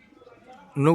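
A pigeon coos close and loud in the final moments of the clip, breaking in abruptly after a quiet, low-level background.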